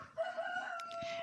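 Rooster crowing on a snowy Siberian morning, a single drawn-out cock-a-doodle-doo, loud and close, with no talk over it.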